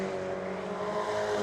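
Racing cars circuit Cadwell Park during a BRSCC summer race weekend, a steady loud engine drone with sustained tonal whine, close and continuous without a clear pass-by.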